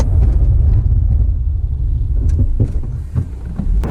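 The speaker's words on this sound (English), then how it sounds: "So now let's see what the Accord can do. On the brakes." A Honda Accord Type S braking hard from motorway speed, heard as a steady low road and tyre rumble from inside the car that slowly eases, with a few faint knocks and no talking.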